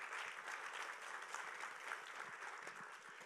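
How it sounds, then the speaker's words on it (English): Steady applause from an audience fills the whole moment, a dense wash of clapping hands at an even level with no voices on top. "please give them a round of applause."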